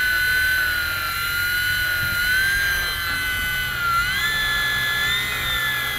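A Flyzone B-25 Mitchell four-channel RC plane flies on twin electric motors with a steady high whine that bends in pitch as the throttle shifts, heard clearly without talk.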